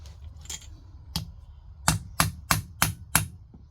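Bolts being loosened and removed from old Honda Hondamatic 400 carburetors in a workshop: a series of sharp metallic clicks and clanks, close and moderately loud, with a quick run of evenly spaced strikes near the end.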